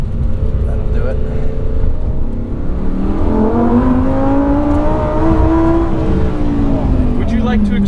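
A 2022 Lamborghini Huracan pulls hard in first gear, its engine note climbing steadily in pitch through a loud, close, continuous rev as it accelerates, with a brief dip before rising again.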